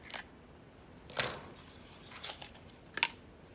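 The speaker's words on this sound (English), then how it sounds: "you'll put your scissors through the bottom and cut" Scissors snip through a bundle of yarn in a few quiet, separate cuts with faint crinkling between them, recorded close up at low volume.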